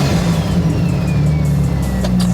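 A 1500hp Toyota Supra engine rumbles loudly and steadily up close as the car pulls up, its deep idle and revs holding throughout with no voices.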